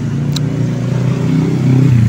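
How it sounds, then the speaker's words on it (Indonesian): Motorbike engines drone steadily nearby on an Indonesian street, a continuous mid-pitched hum that swells slightly toward the end, with no talking. "Banyak motor nih, ganggu aja."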